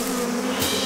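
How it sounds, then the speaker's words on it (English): Cartoon bees buzz near a hive in a Postman Pat episode, a close, loud, steady droning hum lasting about a second with a slight swell toward the end. "Look, that bee's going inside the hive."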